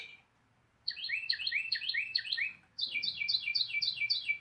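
Carolina Wren song played back by an IdentiFlyer Lyric bird identification device: two bursts of rapid, ringing repeated phrases, clear and loud against a quiet background, with a short gap between them.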